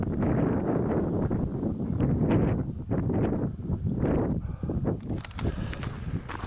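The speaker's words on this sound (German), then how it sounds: "Es ist ein eisiger Wind aufgekommen." Icy wind blowing during a winter mountain descent of the Brocken at minus 13 degrees, a steady loud rushing buffeting that fills the whole stretch, with breathing and crunching steps mixed in.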